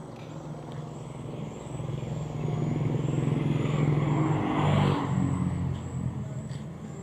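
A car maneuvering to park outside a roadside tire-patching stand, its engine idling steadily and then rising slightly as it moves, close and continuous, with faint voices in the background.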